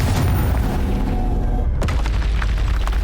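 A Confringo explosive spell blast in Hogwarts Legacy, a heavy booming roar filling the whole stretch with a deep rumbling low end, loud and close, with a brief dip midway before the blast continues.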